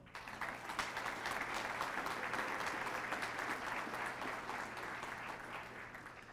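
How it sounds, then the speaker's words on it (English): Sustained, dense applause fills a hall at a Lansing volunteer appreciation night in 2009, steady and fairly loud from start to finish with no speech over it. "I want to please have you give a round of applause to"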